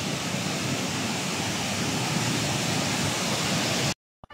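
Rushing water of Tinoyan Falls pours in a steady, dense roar close by, a broad hiss filling the whole span before cutting off abruptly near the end.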